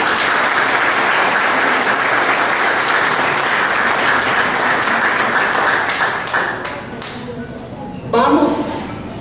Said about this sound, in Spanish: Un fuerte aplauso para ustedes que están aquí.